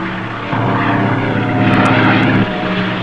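Propeller airplane closing in on a submarine, a loud droning engine roar that swells sharply, holds steady, then drops back a little, with no voices.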